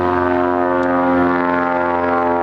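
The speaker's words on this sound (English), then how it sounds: "Sorry about the airplane noise." A propeller airplane drones overhead near the Van's Aircraft factory, a loud steady engine hum with strong harmonic tones holding level throughout, no speech over it.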